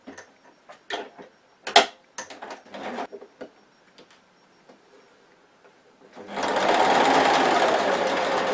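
A sewing machine stitches a fabric mug rug, starting after several seconds of scattered handling clicks and taps, then running as a steady, loud, rapid whirring hum close by.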